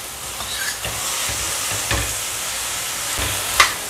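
Wood ear mushrooms, carrots and green beans stir-fried together in a home kitchen pan, giving a steady soft sizzle and hiss with occasional scraping stirs, close and continuous without talk.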